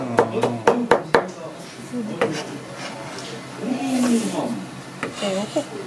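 A knife strikes a cutting board in a quick burst of sharp chops while seafood is prepared. Conversation continues afterwards with a few scattered knocks.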